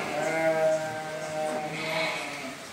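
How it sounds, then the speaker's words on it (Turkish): Young lambs bleating on a farm, a sustained, wavering cry close by followed by another bleat, with faint farmyard background. "Şunlar kurbanda küçük kuzularımızdı."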